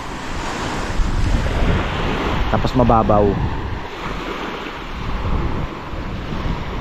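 Sea waves wash continuously against a rocky shore, a loud, broad roar mixed with wind buffeting the microphone; someone speaks briefly in the middle.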